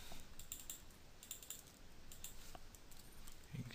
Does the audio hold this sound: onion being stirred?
no